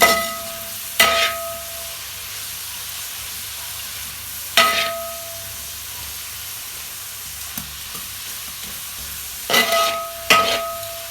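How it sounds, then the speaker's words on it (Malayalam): Sliced onions fry in coconut oil in a pan, giving a low steady sizzle broken by a few sharp bursts of stirring, with no one talking. "സവാള നല്ലോണം വാട്ടിയെടുക്കണം"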